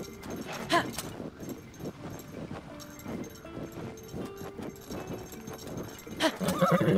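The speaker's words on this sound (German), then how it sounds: "Pferd." A horse in the video game Zelda Tears of the Kingdom neighs in short whinnies over faint clip-clopping hooves and game ambience, with a louder burst near the end.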